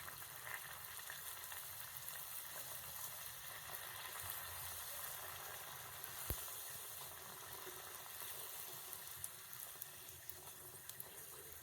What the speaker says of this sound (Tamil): எண்ணெய் சூடாயிட்டு இப்போ நம்ம பரத்தி வச்சுருக்கிற பூரியை போட்டு எடுத்துடலாம்.